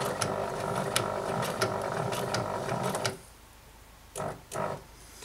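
A sewing machine runs steadily, stitching a patch along the bottom of a five panel cap, with a close mechanical whirring rattle that stops partway through, followed by a couple of brief clicks.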